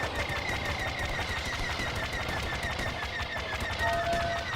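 Rapid, continuous blaster gunfire rattles loudly and steadily during a Star Wars Battlefront battle, sharp repeated shots with little pause and faint voices beneath.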